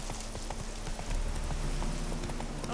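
Horse hooves clip-clop at a steady trotting pace in The Witcher 3 video game, carrying on over a continuous low background hum.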